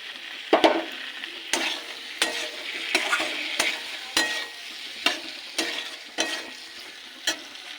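A spoon stirs dal chili curry after chili and tomato sauce go in, regular scraping strokes roughly every half second to second over a bright steady sizzle, close and clear, no speech.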